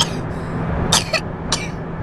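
Two or three sharp coughs close by, spaced apart over a low steady hum.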